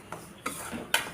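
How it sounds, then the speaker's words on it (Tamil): A spoon stirring semolina as it roasts in ghee in a pan, three distinct scraping clinks against the metal spaced across a short, close, quiet moment with a faint sizzle beneath. "இப்போ ரவையை போட்டு நம்ம வறுத்துருவோம்."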